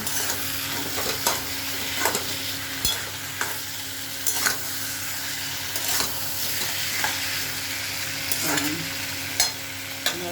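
Meat sautéing for kosha in a pan over a gas flame, a steady close sizzle with repeated scraping clicks of a spatula stirring at irregular intervals, no voices.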